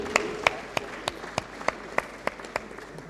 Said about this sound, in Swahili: Na tuwapigie makofi mazuri tena.